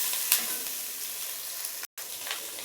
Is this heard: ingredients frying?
yes